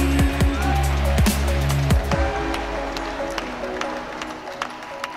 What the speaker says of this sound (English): Give a round of applause one more time for Epsilon Vinch